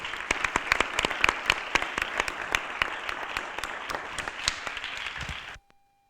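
A large audience applauds after a panel discussion on science and sustainable mobility, dense steady clapping at close range for about five and a half seconds before cutting off abruptly.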